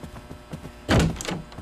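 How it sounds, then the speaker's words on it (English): Doors being unlocked in the VR video game noclip: a short mechanical clunk and thunk of a latch releasing, preceded by light faint clicks and followed by a brief rattle. "I'm gonna unlock some doors."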